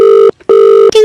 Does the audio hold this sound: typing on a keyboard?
no